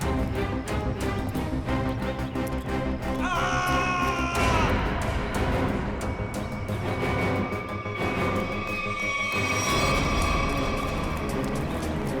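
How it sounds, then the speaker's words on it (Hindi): Loud, overlapping shouts and screams from several people rise and fall continuously, close and chaotic. "ये आवाज, ये चीखने की आवाज कहाँ से?"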